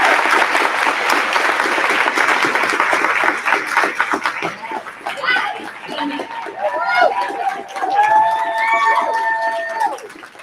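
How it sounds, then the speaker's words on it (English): Luncheon crowd applauds an award recipient with loud, dense clapping that fades after about four seconds, giving way to a speaker's voice and light chuckles. "let's give a round of applause for Amaya"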